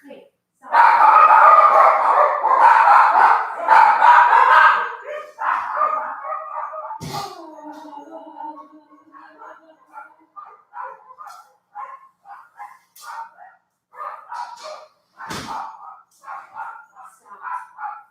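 Household dogs bark and yip near the microphone, loud and clustered at first, then easing into scattered lighter yips and whimpers.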